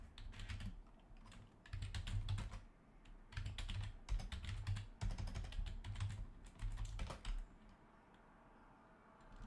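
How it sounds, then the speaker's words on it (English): Rapid typing on a computer keyboard, quick clicky keystrokes in bursts separated by short pauses, close and moderately quiet with no talking. "I'm typing it wrong"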